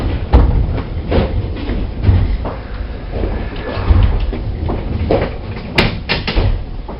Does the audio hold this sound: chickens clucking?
no